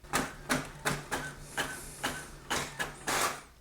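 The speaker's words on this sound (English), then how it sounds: "In around 12 seconds, the print should come out" A Brother MFC-J4335DW inkjet printer runs a document through, making a close, steady series of mechanical whirring bursts roughly twice per second, with no voices.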